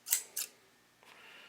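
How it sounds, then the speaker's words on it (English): Two quick scissor snips close up, a sharp paired cut near the start followed by a fainter rustle, while trimming color infill transfer material for laser engraving. "Then I take my scissors"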